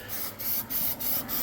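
Light coat of spray paint hissing from an aerosol can in four or five short bursts with brief pauses between, close and steady, with no talking.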